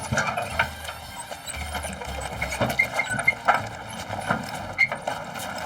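A herd of Camargue horses walks in the Bouches-du-Rhône countryside, hooves clopping in an irregular, close rhythm alongside faint background noise.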